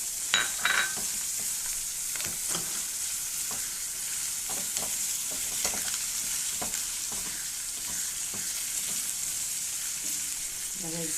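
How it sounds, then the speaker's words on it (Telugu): Green chilies and grated ginger fry in hot oil for a tempering, crackling and sizzling steadily, with scattered sharp pops and stirring clatter close by. "పోపు ఇలా వేయాక పచ్చిమిరపకాయలు,"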